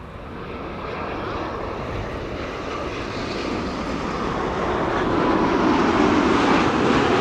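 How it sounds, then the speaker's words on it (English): A KLM Boeing 787-10 Dreamliner, registration PH-BKD, arrives at Amsterdam Schiphol as a loud, steady jet roar that builds gradually over several seconds and stays alone without speech. "KLM 78710 Dreamliner arriving from Bogota, where it left from 10 hours and 13 minutes ago"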